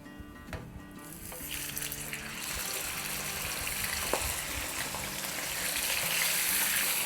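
Bone-in chicken, about a kilo, fries in a pot with cardamom and cinnamon over medium-high heat for a Madrasi chicken biryani, giving a steady hiss and wet sizzle that swells slightly, with a brief clink partway through.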